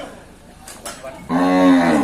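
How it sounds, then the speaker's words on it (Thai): A young water buffalo at a livestock market gives one loud, drawn-out tonal call close by, preceded by brief scuffling noises. "จะเอาควายน้อยขึ้นรถวุ่นวุ่นมาวุ่นกันอยู่นี่"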